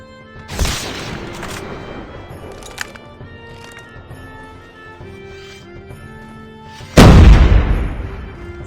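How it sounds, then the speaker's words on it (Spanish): Grenades bursting in a video-game firefight beside a Trophy system, with a sharp blast near the start, quieter crackling in between, and a heavier, louder explosion near the end. "Observa cómo impactan las granadas justo al lado mío sin causarme el más mínimo daño."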